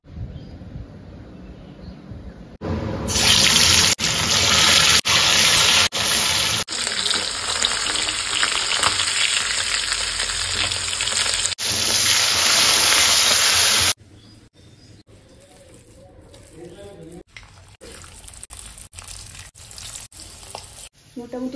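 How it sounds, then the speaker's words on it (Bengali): Fish and lentil fritters (bora) sizzle loudly in hot oil in a home kitchen pan, a steady close frying hiss for several seconds before dropping to a quieter simmer. "আর এইদিকে আমার বড়াগুলো ভাজানো চলছে"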